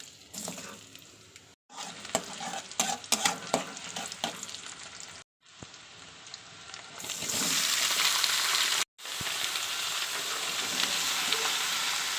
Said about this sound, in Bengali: তেলটা হালকা গরম হয়ে গেলে আমি পেঁয়াজটা দিয়ে দিচ্ছি।